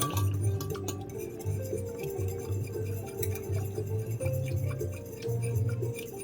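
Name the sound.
spoon stirring tomato tonkotsu instant ramen broth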